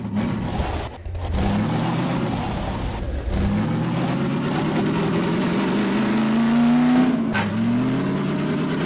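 Car driving in the video game Half-Life 2: Episode Two, a continuous engine drone rising in pitch as it revs, with brief dips and rumbling bumps along the way.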